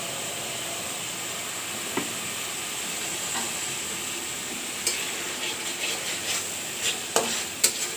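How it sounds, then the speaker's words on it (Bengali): Spice paste with tomato sauce and bay leaves frying in oil in a pan, a steady soft sizzle with occasional sharp scrapes of a spoon stirring, growing more frequent toward the end. "ভালো করে নেড়ে চেড়ে নেব।"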